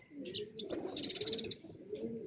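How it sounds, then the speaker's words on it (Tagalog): Pigeons coo softly in a low, steady murmur, joined by a few sharper chirps and a brief bright trill. The sound is faint and carries a close, outdoor feel during a morning viewing of racing birds. "Yan ang mga ibon natin, no? mga behave lang."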